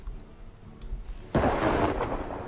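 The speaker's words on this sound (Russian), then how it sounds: "Молния шарахнула." A lightning strike in the video game Farthest Frontier hits with a sudden loud thunderclap after a quiet moment, then settles into a dense rumbling roll with rain noise.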